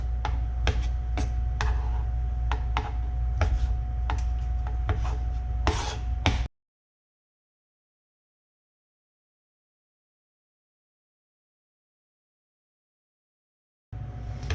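A knife cuts beef into half-inch pieces for gyudon, with steady rasping strokes and small taps on a board, then a long stretch of silence before the cutting briefly resumes.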